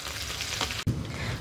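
Chilies and broken wadi fry in hot oil with a steady close sizzle and crackle, broken by a quick stir-like rustle and a brief dip before the hiss resumes.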